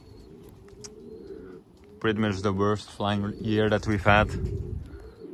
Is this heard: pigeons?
yes